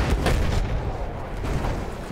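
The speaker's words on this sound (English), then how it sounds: "Getting some artillery fires, be careful." Artillery fire in the video game Battlefield 1, a loud, dense rumble of booming blasts and low thuds rolling continuously through the short stretch, no speech.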